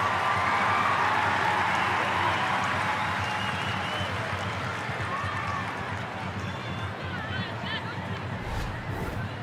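A stadium crowd at a women's international football friendly in Canberra, Australia against Argentina, gives a broad, steady roar that holds close and full, then eases slightly toward the end.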